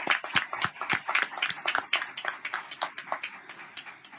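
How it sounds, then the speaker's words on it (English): Applause at a school governing board meeting after a motion carries, a steady patter of many hands clapping with sharp individual claps, fairly close and lasting about four seconds with no talking. "let's give a round of applause for that one"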